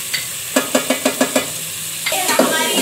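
Onion, tomato and garlic-ginger paste sizzle in a pan for an aloo baingan sabzi, while a spoon scrapes and stirs in a quick series of rhythmic strokes. The cooking is heard up close, with no talk.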